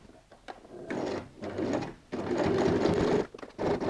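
A sewing machine stitches the side seams of a handbag through thick layers, running in several loud bursts separated by short pauses, with no talking.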